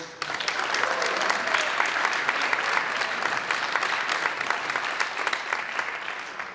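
Sustained crowd applause at a parents-of-the-year auction and gala, a dense steady roar of many hands clapping that fills the whole stretch at an even level.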